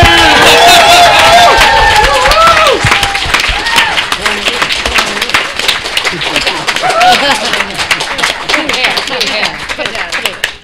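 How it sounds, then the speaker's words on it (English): An audience at a DragonCon writers' panel claps loudly for the panelists, a dense, sustained round of applause with crowd noise that slowly thins out, with voices heard over it. "give our panelists a loud, raucous round of applause"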